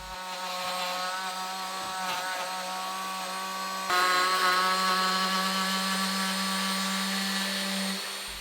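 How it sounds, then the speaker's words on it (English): A power router rounds over the corners of a wooden vase held in a vise, giving a steady, loud high-pitched whine that shifts in pitch midway and then cuts off near the end; no voices are heard. "get the router back out, and round over all the corners"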